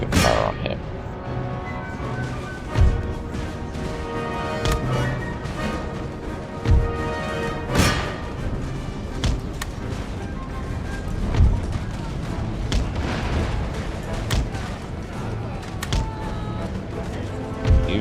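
Musket volleys from line infantry in Total War: Empire, Russian army, several booming bursts at irregular intervals over a steady battlefield rumble, with someone talking throughout.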